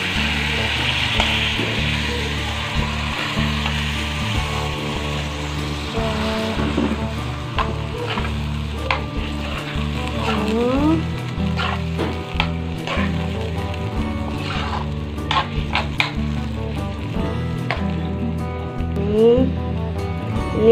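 Squid stir-frying with tomato in a pan, a steady loud sizzle with scraping stir strokes running throughout, no talk over it.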